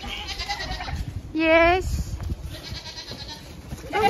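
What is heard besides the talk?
baby goats bleating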